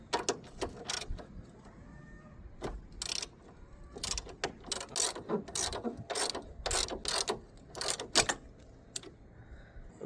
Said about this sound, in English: we're going to be using a 17mm socket to undo the anti-roll bar linkage top mount nut